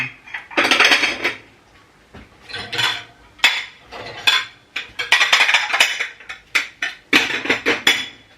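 Dishes, pots and cutlery clatter and clink while being washed, with repeated bursts of metal and ceramic knocking and scraping, fairly close and loud, separated by short pauses and with no talking.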